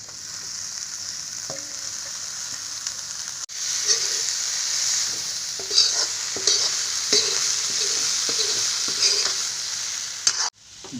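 Chopped banana shoots sizzle steadily in a hot pan with lentils, with repeated scraping stirs of a spatula and a loud burst of hiss as they go in.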